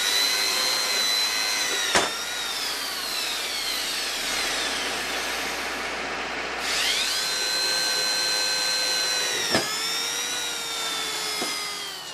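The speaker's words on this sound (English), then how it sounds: "I'm going to go ahead and drill my holes out using this 3/8" A power drill with a 3/8 inch bit bores holes into a wood log, its close, high whine rising and sagging in pitch as it bites. A couple of sharp knocks are heard, and the drill pauses briefly midway.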